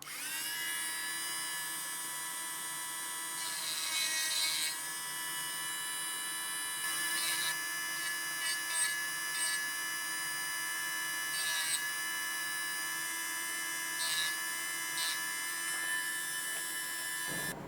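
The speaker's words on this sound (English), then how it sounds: "you saw me carving away quite some material with this tear-shaped" A die grinder fitted with a tear-shaped burr carves a chamfer around the edge of a hole, giving a steady high-pitched whine with a faint hum beneath. The tone wavers briefly as the burr bites into the metal, and no one speaks.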